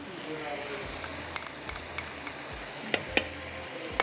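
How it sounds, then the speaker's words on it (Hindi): Pasta sauce with vinegar and barbecue sauce for sweet and sour chicken pasta gets stirred in a pan, a low sizzle under scraping and several sharp clicks of a spoon against the pan. "चलें जी, इसको करते हैं मिक्स।"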